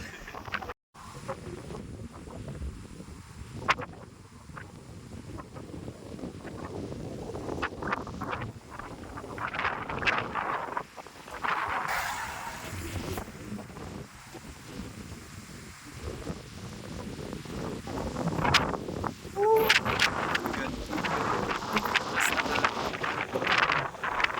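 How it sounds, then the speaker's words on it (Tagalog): Gusty wind buffets the microphone in uneven rumbling bursts on a motorcycle ride stop in Tanay, Rizal, rising and falling over a long stretch, with faint sounds of people in the background. "Lakas ng hangin."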